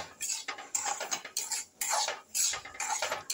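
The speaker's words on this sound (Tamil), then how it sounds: "நல்லா ரவாயை வந்து நல்லா வதக்கிக்குங்க" Semolina (rava) being sautéed and stirred in a pan for somas, repeated scraping and rattling bursts of a spoon against metal in a rough rhythm, loud and close with no talk.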